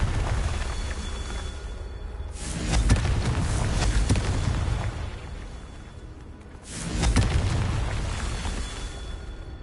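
Two separate Confringo blasting-spell explosions in Hogwarts Legacy, each a loud booming burst with a whooshing tail that fades over a couple of seconds, set apart by a quieter gap.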